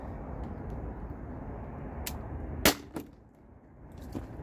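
A single sharp crack from a T4E HDP50 less-lethal pistol fired at a bottle target, preceded by a brief click and followed by a smaller knock, over a steady background hum.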